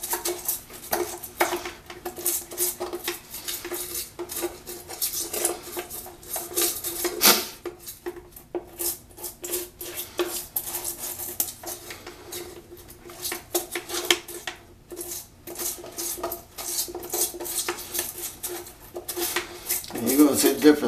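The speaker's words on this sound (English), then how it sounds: "you're scraping it with a little small brush" A small brush scraping a removed shower drain part, giving a steady run of scratchy, clattering scrubbing strokes close by, with a few louder knocks and speech in the background.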